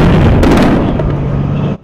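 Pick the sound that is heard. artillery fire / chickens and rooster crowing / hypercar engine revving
artillery fire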